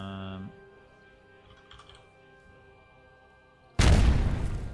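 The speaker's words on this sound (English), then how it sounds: "Yes, this one, trap explosion." A trap explosion effect in an Unreal Engine game bursts in suddenly near the end, loud and broadband, after a stretch of quiet tonal hum and soft clicks.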